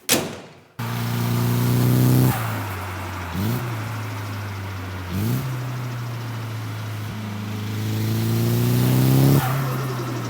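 A modified turbocharged Nissan 180SX accelerating hard, engine revving up through gears with shifts, loud and close, with turbo whoosh between pulls.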